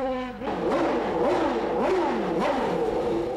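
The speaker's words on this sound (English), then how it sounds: "Listen as the car's traction control battles with the snowbound track." Williams BMW Formula One car on a snowbound track, engine rising and falling in quick repeated revs as traction control cuts in, several sharp surges within a few seconds at moderate distance.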